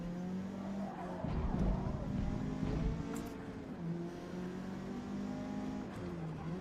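Race car engine in Forza Motorsport at Brands Hatch, revs stepping down through repeated downshifts with droning tones that drop and climb again, steady and fairly loud throughout.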